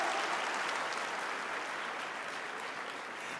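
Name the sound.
audience applause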